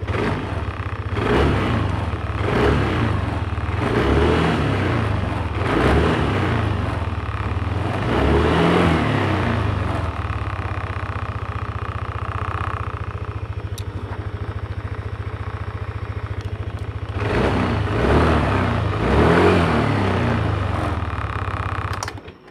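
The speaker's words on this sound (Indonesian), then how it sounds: "kita pencet tombol starternya nah motor sudah bisa dikontak dan bisa hidup" A Yamaha Aerox motor scooter engine starts with the starter button and runs steadily, with a low continuous hum and occasional revs, close and fairly loud throughout.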